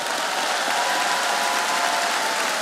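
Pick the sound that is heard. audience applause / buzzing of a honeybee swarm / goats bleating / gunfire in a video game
audience applause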